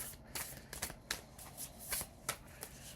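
A deck of Healing Spirit oracle cards is shuffled close by and quietly, as a series of short riffling bursts spaced about every half second over a low background.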